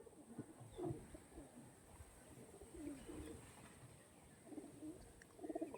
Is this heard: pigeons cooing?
yes